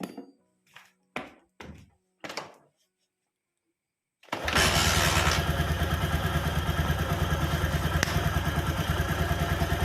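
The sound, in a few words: Honda Megapro motorcycle engine starting with CB100 timing chain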